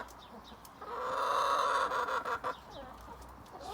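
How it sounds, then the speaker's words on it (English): A sore hen that has been pecked at clucks and squawks close by, in a loud run of agitated calls that trails off into a few short clucks over a quiet outdoor background. "that chicken has had enough of being mauled"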